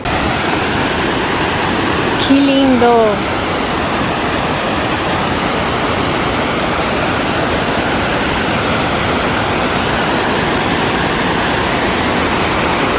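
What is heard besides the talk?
waterfall in Serra da Canastra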